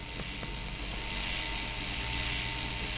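Drones fly overhead in a video game, a continuous buzzing engine drone with a high whine, steady and fairly quiet with no talking.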